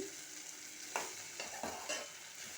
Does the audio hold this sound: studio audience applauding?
no